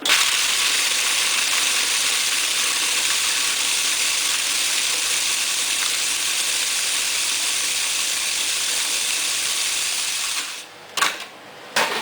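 Steady, loud grinding whir of a food processor crushing Oreo cookies, running continuously for about ten seconds before cutting out in brief stops at the end.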